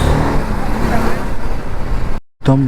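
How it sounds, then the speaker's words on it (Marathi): Traffic on a village road in the Konkan region, heard from a BMW G310GS motorcycle: a loud, continuous roar of wind and engines that briefly cuts to silence before the noise returns. "गाव आलं की थोडं ट्रॅफिक लागतंच."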